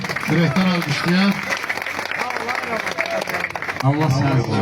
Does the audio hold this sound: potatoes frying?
no